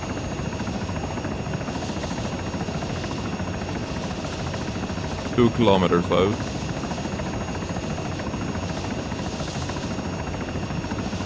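Helicopter flying in the ArmA 3 game, a steady loud rotor drone running throughout, with someone speaking briefly over it mid-clip.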